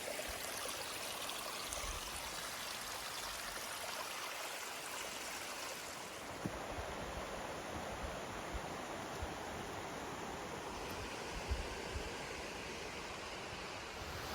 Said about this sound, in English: But look at this beautiful waterfall. It is gorgeous. You can hear it really well.